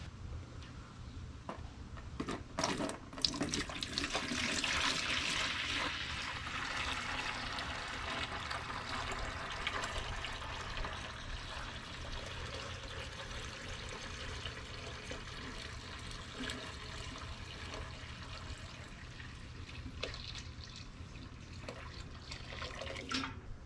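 Homebrewed honey ale wort pours steadily into a bucket, a continuous splashing liquid stream that holds a fairly even level throughout, with a brief louder surge early on.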